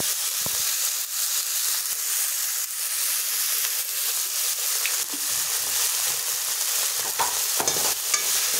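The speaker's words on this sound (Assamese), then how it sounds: "এনেকৈ বনাই অলপ সময় ভজা হ'লেই মই পুৰটো বনোৱা আৰম্ভ কৰিছোঁ।" Capsicum filling with tomato sauce stir-fried in a pan, a steady close sizzle and hiss with occasional scrape and clink of the spatula throughout, no talk.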